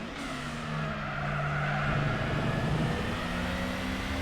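Engine of a Mazda MX-5 racing in Gran Turismo 4, a steady droning hum that holds level and rises slightly in loudness partway through, with no talking over it.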